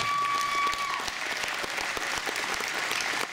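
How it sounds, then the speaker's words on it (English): Rally crowd at the Lesser Prairie Chicken Rally in Roswell applauding visiting senators, a thick, continuous patter of many hands with a few sharper individual claps standing out, a brief tone sounding early. "Give them a round of applause."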